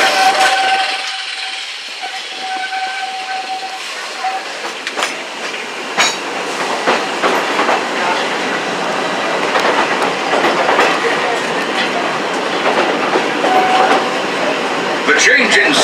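Walt Disney World Railroad train rolling along its track, a steady rumble with clickety-clack wheel rhythm and occasional metallic squeals, close and continuous for the whole stretch.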